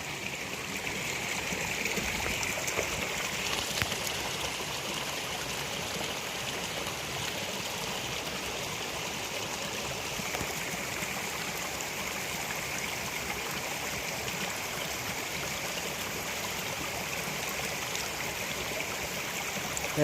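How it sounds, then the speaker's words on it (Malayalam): A mountain stream on a trail between Adimaly and Mangulam in Kerala flows steadily, a close, constant rushing and burbling of water with no voices. "ഈ വെള്ളമാണ് അങ്ങോട്ടൊക്കെ പോണത് ഗൈസ്."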